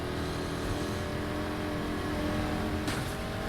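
Race car engine in Need for Speed Heat revving and accelerating off the start line, a steady loud drone throughout with a brief higher sweep near the end.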